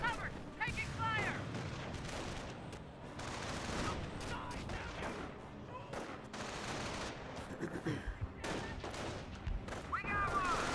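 Dense bursts of rifle and machine-gun fire with distant booms in the World War II strategy game Company of Heroes 1, sustained and layered over a continuous battle din, with game voices shouting in between.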